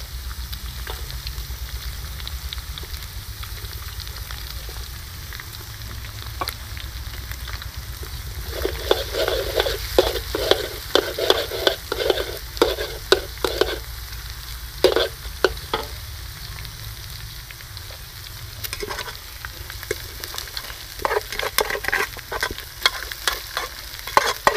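Beef fried rice is stir-fried over a charcoal stove: a constant low frying hiss under repeated metallic clanks and scrapes of a spatula in the wok, which grow busier and louder midway and stay steady with no talking.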